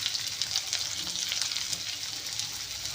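Chopped onion dropped into hot oil where mustard seeds have already popped, frying with a soft, continuous crackling sizzle and faint spitting, close and fairly quiet, with no voices.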